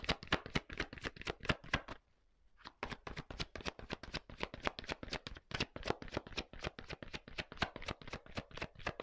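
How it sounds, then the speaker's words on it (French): Tarot cards being drawn and handled from a deck, heard as a rapid, steady run of close crisp flicks and snaps with one brief pause, no talking. "Allez, je prends une petite carte encore."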